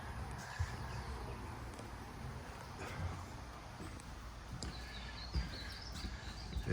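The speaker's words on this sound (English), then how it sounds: "You can hear the birds chirping." Faint birds chirp and call outside a house on a quiet residential street, sparse and distant over a steady low background hum with light road noise.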